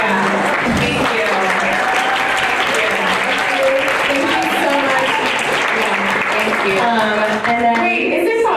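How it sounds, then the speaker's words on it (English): Sustained applause from the audience at a queer comedy panel, dense continuous clapping filling the room with a speaking voice over it throughout. "Everyone, please clap. Yeah, please clap harder."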